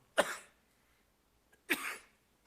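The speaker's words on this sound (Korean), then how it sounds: "이 결정적인 순간에 기침이 났어요." A man's cough during a sermon: two separate coughs, close and fairly loud, about a second and a half apart, with quiet in between.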